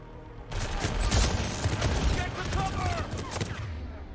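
Rapid bursts of gunfire ring out in the Mass Effect 3 video game, a loud continuous barrage of shots from a shooter firing through cover, with a voice briefly heard amid the volley.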